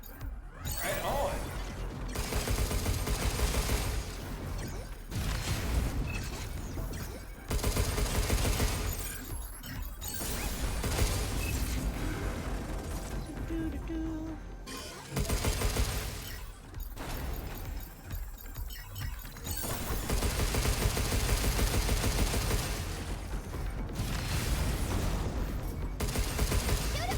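Gunfire and mechanical clanks from the action video game Pragmata, dense bursts of shots and crashing impacts running almost continuously with brief gaps, loud and close.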